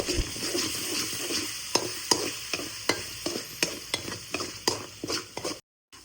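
Tomato with ginger and garlic cooks in a pot over a medium flame, a soft frying sizzle broken by regular spoon-stirring strokes and clacks against the pot, fairly quiet and close, with no voices.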